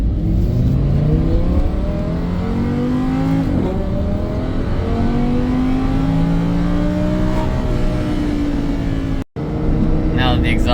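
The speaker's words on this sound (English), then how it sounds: "get this V10 noise out into the atmosphere like it needs to be and wants to be" A Lamborghini Huracan's V10 fitted with a titanium exhaust revs loudly and repeatedly, the engine note sweeping up and down in long pulls with a brief cut near the end.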